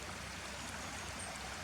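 A small burn flows through Harthope Valley near a road, giving a steady, faint, even rush of running water with no breaks.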